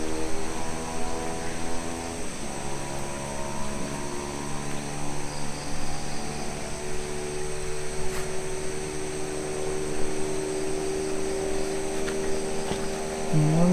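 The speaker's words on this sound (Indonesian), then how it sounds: "Mungkin bisa mendengar suara-suara kendaraan ya, karena padahal ini waktunya udah malam ya." Motorbikes and other vehicles at night produce a steady, droning engine hum with layered tones that holds throughout and swells slightly near the end, with no clear individual pass-bys standing out.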